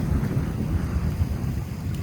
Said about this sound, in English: A wave coming through there.